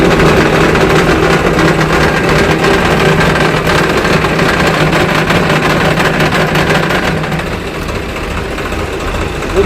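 A tractor engine runs steadily at a low, heavy idle with a rotavator attached, a continuous close rumble and vibration that eases slightly near the end.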